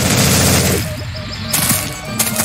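Automatic rifle fire in the audio game Blood Shed: a loud, fast burst of shots that fades into scattered shell clinks and a few sharp sounds from the weapon.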